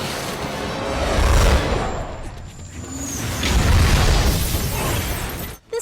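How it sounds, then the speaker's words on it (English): Movie-effect missile explosion slamming into a truck, with shattering car windows: two loud booming, crackling bursts with debris-like noise and a whooshing sweep, ending abruptly. "The explosion caused by the missile and shattering windows were added in post"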